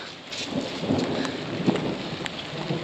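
Heavy rain from a storm pours steadily onto a lawn while low thunder rumbles beneath it, with no voices present.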